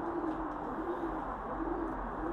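Racing homing pigeons coo softly and steadily up close in a loft, a low continuous murmuring with no voices.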